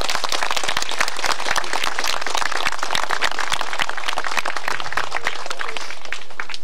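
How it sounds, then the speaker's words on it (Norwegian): Steady, dense applause from a crowd clapping for staff at an ESSO Dåsnes anniversary gathering, many hands clapping continuously and fairly loud throughout with no talk. "så jeg tenker du skal gi deg en klapp"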